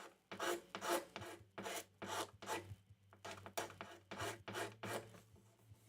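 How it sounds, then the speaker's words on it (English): Scraper drawn repeatedly along a guitar fingerboard to remove its finish, about a dozen rhythmic rasping strokes close up, each a short rough scrape with brief pauses between, otherwise quiet. "The scraping might be a little ASMR, but in a negative sense, that is."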